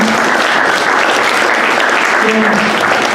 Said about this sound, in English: I would like a round of applause for this intense group of people